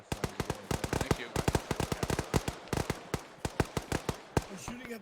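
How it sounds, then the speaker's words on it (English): Rapid gunfire in the military shooter ArmA 3, many sharp shots in bursts and single cracks filling the whole stretch, close and loud, with faint radio chatter and voices underneath. "We're shooting at that old position that we were at before"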